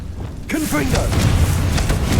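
A Confringo blasting spell goes off in a Harry Potter video game, a loud booming burst with a rushing swoosh that carries on as a dense roar while a voice calls out over it.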